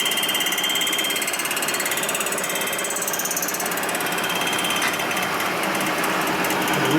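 Machining cuts on a 1958 Harley-Davidson panhead cylinder head give a steady mechanical grinding and rattling chatter. The sound is continuous and moderately loud, with no talking.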